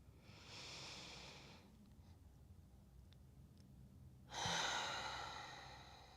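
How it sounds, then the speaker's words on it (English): Deep breaths during a yoga breathing exercise in a supported fish pose: a long, airy inhale, a quiet pause, then a stronger exhale, all close and soft with no speech. "let's take a couple rounds of breath here together"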